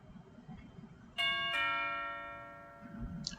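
Video game doorbell giving two bright chimes in quick succession, a ding-dong whose tones ring out and slowly fade over a quiet background.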